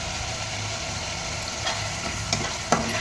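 Chili paste and onion fry in oil for a yellow potato curry, giving a soft, steady sizzle with a few light stirring clicks near the end, quiet and unvoiced.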